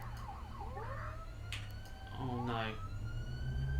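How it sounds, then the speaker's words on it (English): An emergency vehicle's siren stuck on, wailing in rising and falling sweeps that grow louder toward the end, with a person talking over it. "the siren sounds like it's stuck on"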